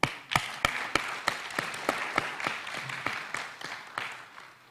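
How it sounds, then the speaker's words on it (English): Sparse applause from an audience at a writers conference: a dozen or so distinct, separate claps spaced irregularly, sharp and fairly close, fading gradually over a few seconds, without talk. "Applause."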